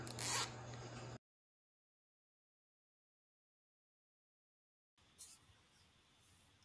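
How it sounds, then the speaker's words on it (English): Zip ties are pulled tight on a wreath of branches, giving a short, close ratcheting zip, then a long silence before a fainter rasp. "So I just continue on with the zip ties, getting the bulk or the mass of the branches tied down to the wreath."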